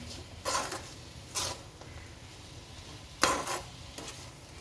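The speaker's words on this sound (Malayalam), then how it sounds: "നല്ലതുപോലെ ഇളക്കി കൊടുക്കുക." Mango pickle being stirred with a spoon in a pot or jar, oil and spice masala mixed through cut mango, giving a few separate scraping clinks spaced out over a quiet background.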